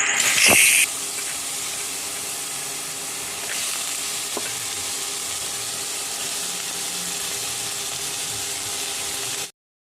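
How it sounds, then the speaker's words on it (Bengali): Pumpkin pieces cut like potatoes fry in hot salted oil, a continuous close sizzle and hiss with a few sharp crackles and a brief utensil clatter at the start, no voices. "আমি তো এদিকে কুমড়ো ভাজা করছি"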